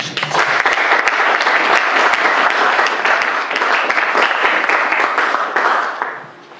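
A church congregation applauds together, a dense, loud wash of clapping that holds steady for several seconds and then fades out at the end.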